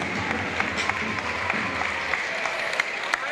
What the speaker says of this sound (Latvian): Aplausiņas, aplausiņas.